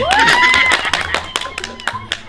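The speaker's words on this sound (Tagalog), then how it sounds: "O palakpak muna kayo, mga apple kayo" A group claps hands during a playful Easter Sunday quiz challenge at home, a scattered run of sharp claps following a stretch of voices.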